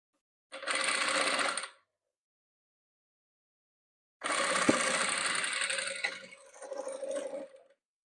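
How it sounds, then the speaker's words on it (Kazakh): A sewing machine stitches green patchwork fabric in two bursts of steady mechanical whirring, the first short and the second longer, with a brief slower stretch before it stops. "Енді тағы да жасыл түсімізді тігеміз."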